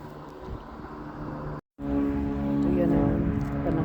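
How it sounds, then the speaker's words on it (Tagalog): Steady rushing wind buffets outdoors under overcast skies, a broad low roar that continues throughout, with a brief dropout midway. "Mahangin. Tsaka kulimlim."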